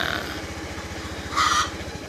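A motorcycle fitted with a KT03 two-sensor touch alarm has its electric starter engaged, giving a rapid, even low-pitched cranking pulse, with a brief bright electronic beep partway through the short burst.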